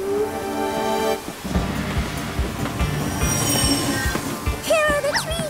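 A cartoon train rolls through a tunnel, a sustained rumble with rhythmic clacking wheels and squealing metal, opening with a tonal whistle-like hum and closing with rising squeaky tones.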